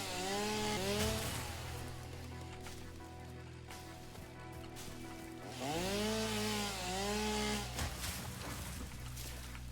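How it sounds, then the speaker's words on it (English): A chainsaw in Satisfactory revs and bites into a tree in two bursts, its engine whining up and down in pitch under steady mechanical rumble, loud and close with no talking. "I like the chainsaw."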